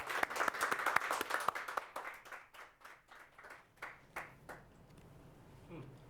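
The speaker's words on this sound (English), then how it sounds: "let's have a bit of a round of applause for these guys" Applause for leadership race candidates, a burst of clapping that thins out into a few scattered, distinct claps before fading away, with a little talk near the end.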